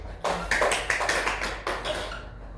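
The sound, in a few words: applause, classroom clapping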